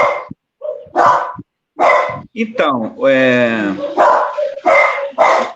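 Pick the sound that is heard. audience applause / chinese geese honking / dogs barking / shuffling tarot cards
dogs barking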